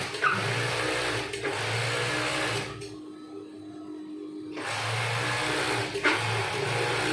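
A tailor's sewing machine runs in steady whirring bursts as it stitches cloth, stopping for about a second and a half midway before starting again; the sound is close and moderately loud, with no speech.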